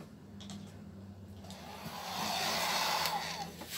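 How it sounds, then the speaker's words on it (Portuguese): A hair dryer blows air to dry varnish on a painted miniature battle car, a close, steady whooshing hiss over a low motor hum that grows louder partway through. "com o secador de cabelo"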